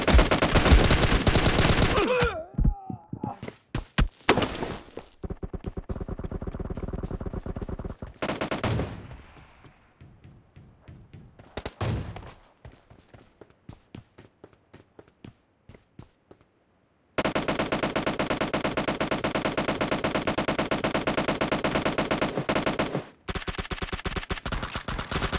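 Automatic gunfire in a PUBG arena team deathmatch, long loud sustained bursts of rapid shots with gaps of quieter scattered fire in the middle, then another long continuous burst near the end.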